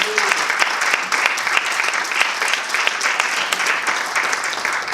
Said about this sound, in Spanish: ¿Por qué no le damos palmas al Señor?